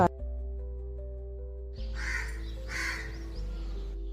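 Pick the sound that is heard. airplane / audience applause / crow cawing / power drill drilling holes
crow cawing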